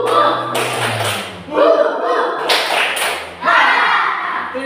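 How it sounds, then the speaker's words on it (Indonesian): A group of teachers does a rhythmic spirit clap during a classroom training session, with bursts of hand claps in a patterned beat mixed with chanting voices and talk. "Semangatnya tepuk semangat."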